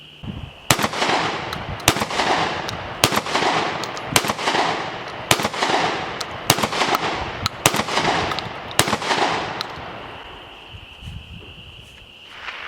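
Eight sharp, loud blasts from a Mossberg 940 Pro Tactical SPX semi-auto shotgun fired in an evenly spaced string, each shot followed by a short outdoor echo, then quiet.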